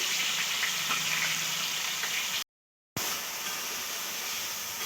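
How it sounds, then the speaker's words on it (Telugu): Onion and green chili paste sizzles in hot oil with a steady, bright hiss close by, briefly cut to silence midway before the frying resumes; no talking. "ఈ విధంగా అయితే ఉల్లిపాయ పచ్చిమిర్చి పేస్ట్ని ఫ్రై చేసుకోవాలి"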